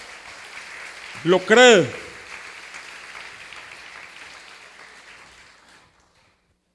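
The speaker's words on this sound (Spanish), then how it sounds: "Dale un aplauso a Jesús" Congregation applause at a Sunday church service, a moderate wash of clapping running under a loud spoken voice, then gradually fading away into near silence.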